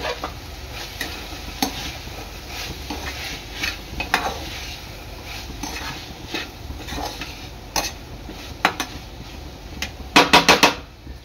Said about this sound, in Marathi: थोडंसं परतून घ्यायचं आहे चांगलं